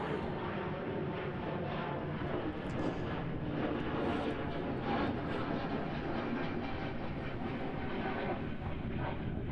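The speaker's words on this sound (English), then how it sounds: "While our Embraer takes the sky." An Embraer jet taking off at Amsterdam Schiphol airport on a windy day: a steady, loud broadband engine roar that holds for about ten seconds with no one speaking.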